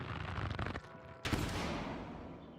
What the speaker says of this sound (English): Why does it sound like a gunshot?